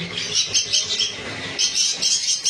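Conures and lovebirds in a bird shop chirp and squawk continuously at close range, a dense, shrill chorus with overlapping calls.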